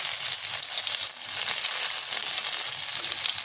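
Chopped ginger sizzles in hot oil as a tempering, a loud, close, continuous crackling hiss with no talking.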